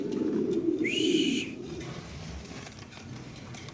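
Spanish and king pigeons in a breeding loft give a low, throaty coo over about a second and a half, with a short rising whistle over it, then fade into quieter background rustle and faint voices.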